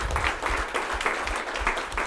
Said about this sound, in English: Round of applause for him real quick